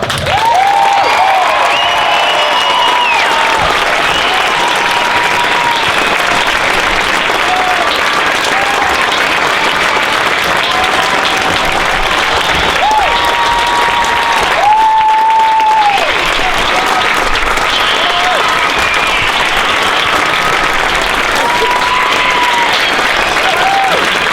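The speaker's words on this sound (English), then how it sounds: "Please join us in giving Trey a massive round of applause." A stadium crowd at a high school football game applauds and cheers steadily for a player's jersey retirement, a dense, loud roar of clapping that holds for the whole stretch, with whistles and voices mixed in.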